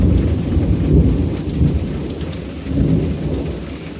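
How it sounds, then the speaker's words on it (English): Heavy rain pours steadily during a thunderstorm while a low, rolling rumble of thunder swells and fades underneath, loud and close, with no voices. "You can hear the thunder."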